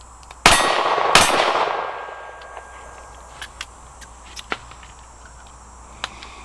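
Two quick .22 Magnum shots from a Ruger LCR revolver ring off a steel silhouette target at 12 yards, each a sharp loud crack with a bright metallic clang, followed by quieter scattered ticks.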